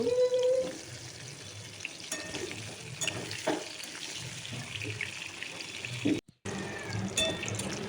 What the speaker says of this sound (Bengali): পটলটাও লাল লাল করে ভালো করে ভেজে নেব